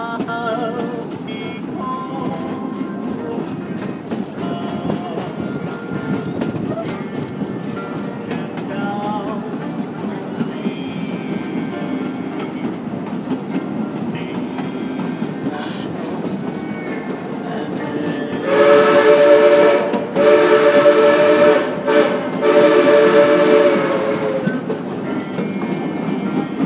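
The Frisco Silver Dollar Line train runs at an old-time Christmas event, rumbling and clattering steadily, then its whistle sounds loudly in several bursts near the end, with faint voices in the background.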